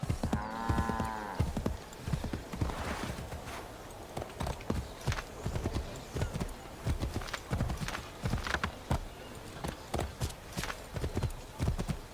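Rhythmic hoofbeats clip-clop steadily throughout, a horse walking on a hard surface in the video game Assassin's Creed III, with a short whinny near the start.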